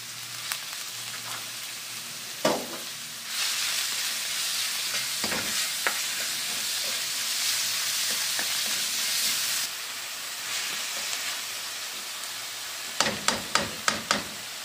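Ground meat frying in a pan, a steady loud sizzle and hiss with occasional spoon scrapes and stirring knocks, ending in a quick run of sharp clacks against the pan.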